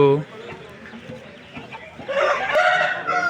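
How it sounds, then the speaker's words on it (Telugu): A rooster over a year and a half old crows loudly and close by at a chicken market in Vijayawada, a long drawn-out call rising near the end, with some clucking and someone talking underneath. "పుంజునైతే చూడొచ్చు చాలా బాగుందనమాట కోడి పుంజ అయితే"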